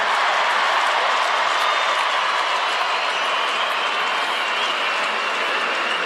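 A stadium crowd applauding after an Australian football match between Fremantle and West Coast, with dense sustained clapping and a loud, even wash of noise and no voices above it.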